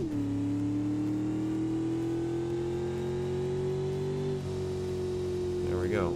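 A drag car, Project Moonhawk, accelerates down the strip with a steadily rising engine drone that climbs smoothly in pitch, loud and sustained, then shifts briefly near the end as it pulls away.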